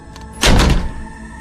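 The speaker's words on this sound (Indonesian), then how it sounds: "pintu tertutup dengan kerasnya" A door slams shut hard in a radio drama about a mystery in an empty house, one loud heavy thud with a brief rattling decay, close and alone.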